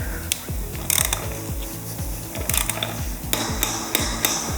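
A torque wrench ratchets a motorcycle nut down to about 82 foot-pounds during a first 600-mile service, giving steady close clicking with a few sharper metallic knocks.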